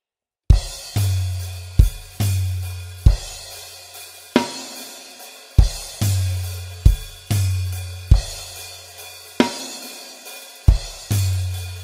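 Drum kit playing the chorus beat of a song: steady booming kick and snare hits under continuous crashing cymbal wash, a loud, close, regular rhythm with no voices.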